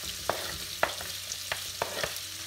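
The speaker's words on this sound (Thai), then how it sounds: "ใส่หอมกระเทียม" Shallots and garlic stir-fried in plenty of butter on medium-low heat, with a soft continuous sizzle and a few light, sparse taps of the spatula against the pan.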